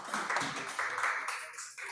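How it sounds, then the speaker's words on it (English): A small conference audience claps together after a session in Kuala Lumpur, a brief patter of applause that fades out within a couple of seconds. "let's give a round of applause to Isha."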